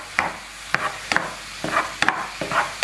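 Mushrooms browning in butter in a pan while being stirred, a soft sizzle broken by several sharp scraping knocks of a spoon against the pan, close and without voices.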